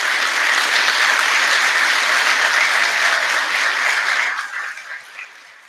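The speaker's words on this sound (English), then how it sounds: "If you would help me in giving these two individuals a round of applause" A graduation audience gives a round of applause, a dense sustained wash of clapping that carries on loudly and then fades away near the end.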